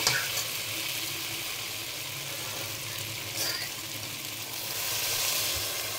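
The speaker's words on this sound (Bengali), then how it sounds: "গরম মশলার গুঁড়ো দিয়ে মিশিয়ে নিলাম।" Garam masala powder being stirred into a potato and pea curry in a pot, a steady sizzling hiss with soft scraping, constant throughout with a slight swell near the end, no voices.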